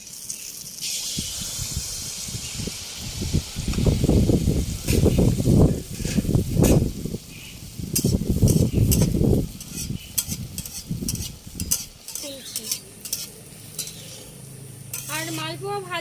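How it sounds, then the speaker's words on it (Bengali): Mango malpua batter fries in hot oil, a steady sizzle broken by bursts of stirring and scraping of a spatula in the pan, loud and close throughout. "তেলটা গরম হয়ে গেছে, মালপোয়াগুলো ভেজে নিচ্ছি।"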